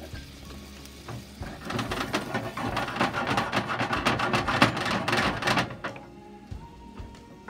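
Crushed tomato and basil sauce simmers in a pan with a dense, steady sizzle and bubbling crackle at close range, then drops away abruptly near the end, leaving quiet.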